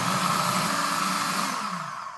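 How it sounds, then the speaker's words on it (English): A food processor blitzing quartered red onions gives out a loud, continuous motor whir with a steady hum, close by and heard alone, fading a little at the end. "Blitz the onions for about 30 seconds"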